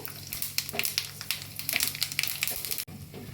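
Mustard seeds and a dried red chilli temper in hot oil, giving close, irregular crackling pops and spitting sizzle in quick bursts, with no one talking.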